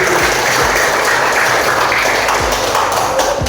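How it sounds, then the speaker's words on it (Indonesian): Steady, dense applause from a crowd fills the whole stretch, a continuous wash of clapping without breaks. "Tepuk tangan berbalik."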